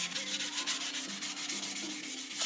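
Close, steady scratchy rubbing of 400-grit hand sanding in quick circular strokes on Porsche Cayman 987 GT4 air ducts between paint coats, soft and continuous with no talking.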